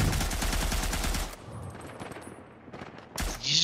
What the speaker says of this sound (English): Did you just shoot his dead body?